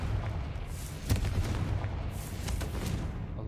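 A Confringo blasting curse in Hogwarts Legacy lands as a loud, punchy explosion with a sharp crack near the start, followed by a rough rumbling roar and a few smaller thuds.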